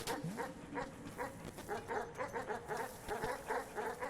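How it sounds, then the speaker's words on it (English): Dogs in the video game Animal Well bark in a steady series of sharp, repeated yips over a constant background of game ambience. "You stupid dogs."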